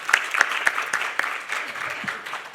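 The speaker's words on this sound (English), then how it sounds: "Let's have a huge round of applause." An audience at a literature festival breaks into applause, with sharp individual claps standing out over a dense, steady round of clapping close to the microphone.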